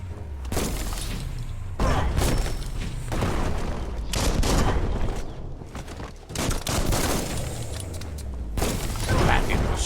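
Bomb lobber enemy attacking in the video game Biomutant, a dense barrage of blasts, booms and shattering bursts filling the scene, loud and continuous with brief lulls.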